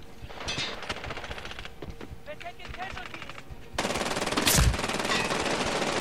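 Rapid automatic gunfire rattles in Medal of Honor: Warfighter beta multiplayer, with bursts of machine-gun fire that grow louder and denser in the second half, including one heavy blast, and a faint voice underneath.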